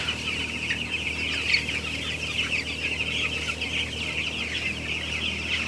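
Young broiler chickens, eleven days old, fill a closed poultry house with a steady, dense chorus of cheeping and clucking, continuous and even throughout.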